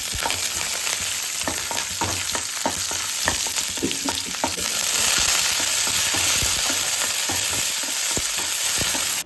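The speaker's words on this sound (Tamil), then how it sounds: "கடுகு பொரிஞ்சோடனே உளுத்தம்பருப்பு போட்டுக்கலாம். வந்த உடனே பச்சை மிளகாய் போட்டுக்கலாம்." Mustard seeds, urad dal and green chilies tempering in hot oil for coconut rice give a steady close sizzle, with sharp popping crackles spread throughout and a brief swell in intensity midway.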